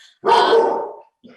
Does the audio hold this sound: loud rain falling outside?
no